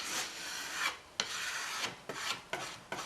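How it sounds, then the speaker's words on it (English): Sandpaper rubbing off epoxy putty, a series of short rasping strokes, about five or six of them, close and fairly quiet with brief pauses between. "keep sandpaper around so you can rub it off."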